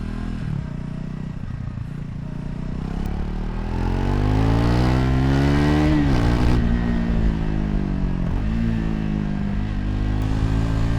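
A Triumph Scrambler 400 motorcycle of about 40 horsepower, weighing around 170 kilos, is heard while riding. Its engine rumbles loud and close, its pitch climbs steadily under acceleration, then dips at a gear shift and builds again.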